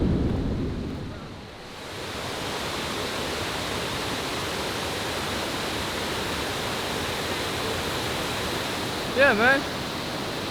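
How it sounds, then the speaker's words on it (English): A large waterfall in northern Thailand roars as a steady, dense wash of noise throughout, with a man's brief spoken remark near the end. "It's quite a big waterfall."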